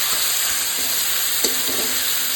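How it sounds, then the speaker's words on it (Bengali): Spices frying and being stirred in a pan for a Bengali dish, a continuous close hiss and sizzle with soft scraping of the spoon. "আবার কষাবো"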